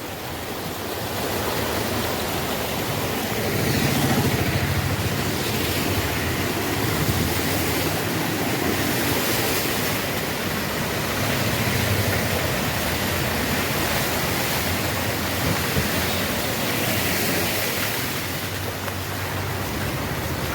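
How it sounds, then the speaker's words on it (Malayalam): Loud, continuous rushing floodwater roars without a break down a flooded service road during heavy rain, a dense even wash of noise with no voices. "വെള്ളത്തിൻ്റെ ഒഴുക്കാണ് നിങ്ങൾ കണ്ടുകൊണ്ടിരിക്കുന്നത്"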